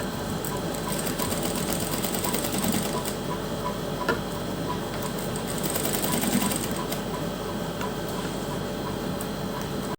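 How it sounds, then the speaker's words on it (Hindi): A sewing machine stitches lace onto a folded fabric strip, running with a fast, steady mechanical clatter and rhythmic ticking throughout, close and continuous with no pauses. "अब हम इसे भी इस तरह से फोल्ड करते हुए पूरी स्ट्रिप पर हम सिलाई लगा देंगे।"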